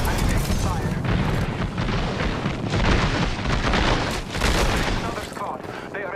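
Heavy gunfire and explosive booms from an Apex Legends firefight, loud and continuous for several seconds, with a dense, crackling barrage pressing in on the player.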